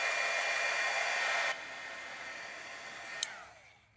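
Hair dryer blowing steadily over a wet watercolor paint layer, loud and close for about a second and a half, then continuing at a lower, softer setting before winding down, with a brief click partway through.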